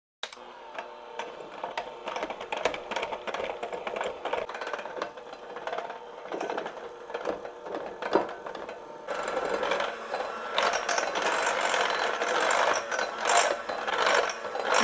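A KitchenAid hand mixer whips chocolate frosting made with cocoa powder, giving a steady, busy mechanical whir with rattling that runs without a break and grows slightly louder partway through.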